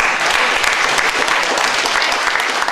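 Steady, dense applause from an audience honouring a local accordionist at a community event in Montsalvy, Auvergne, sustained and fairly loud throughout with no pauses.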